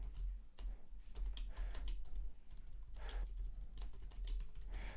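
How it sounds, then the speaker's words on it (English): Keys clatter on a computer keyboard in a steady run of quick, close taps with short pauses, no voices over them. "So I'm just gonna type here in the chat."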